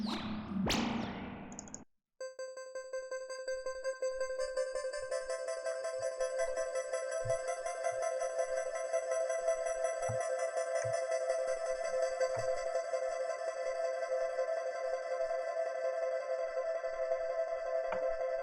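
A sustained old-school synthesizer tone drones on steadily with bright stacked harmonics, holding without a break after a short burst of noise at the start, with faint low thumps scattered underneath.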